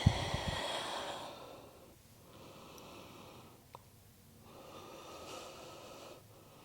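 Slow, deep breathing during a yoga pose, a sharp nasal inhale at the start followed by long, soft exhales and inhales in a relaxed rhythm, close and quiet with no speech.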